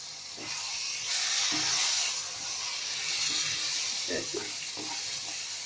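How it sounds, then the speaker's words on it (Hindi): Ground tomato paste with cloves, cardamom and black cardamom sizzles in hot oil in a pan, a steady loud hiss of frying with faint stirring scrapes, and no voices. "अब इसको मैं अच्छी तरह से भूनूंगी"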